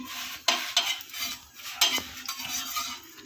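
A chapati cooks on a hot pan with a soft, faint sizzle, broken by several sharp taps and scrapes as it is flipped and pressed.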